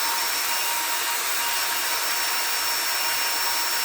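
A spalted beech box is sanded with a steady, loud, hissing power-sander whir that stays constant and close throughout, with no talk.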